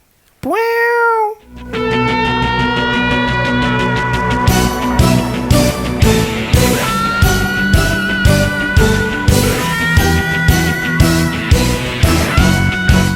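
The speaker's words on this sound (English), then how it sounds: "there's a distorted guitar" A heavily distorted electric guitar plays a driving riff with rhythmic chugging hits, loud and sustained, opening with a bending, wailing note.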